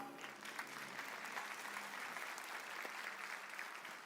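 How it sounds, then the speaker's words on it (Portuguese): Steady, enthusiastic clapping from an indoor audience at a motivational talk, a dense wash of hands that holds at even strength for the whole stretch. "Forte é aplauso para Cacá."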